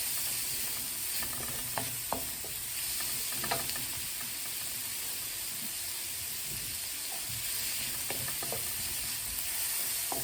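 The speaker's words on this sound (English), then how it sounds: "I always like to fry my onion. I fry it together with the pepper." Steady sizzling of onion and pepper frying in a pan, with occasional clicks and scrapes of stirring, close and continuous with no talking.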